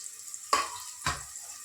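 Onion, garlic and ginger hit hot oil in a pan for spiced masala rice, giving two short, loud sizzling bursts about half a second apart that quickly fade.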